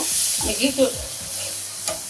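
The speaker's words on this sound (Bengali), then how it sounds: "আমি এখানে খুবই সামান্য একটু পানি দিয়ে দিচ্ছি" A brief hot sizzle and bubbling as hot water hits a pan of fish curry, with a spoon scraping and stirring through it.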